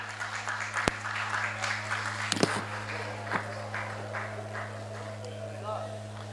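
An audience applauds at a Marathi journalists' association award ceremony, giving moderate, steady clapping with scattered sharper claps over a constant low hum, while a voice talks underneath.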